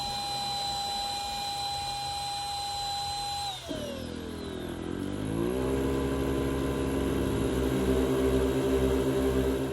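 A Shark 3 rechargeable electric SUP pump hums with a steady whine, then drops pitch and switches into its louder, more powerful higher stage, a rough droning motor running close and continuously.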